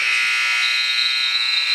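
Basketball game-end buzzer at a preseason classic game, a loud, continuous electronic buzz that holds steady and alone for nearly two seconds.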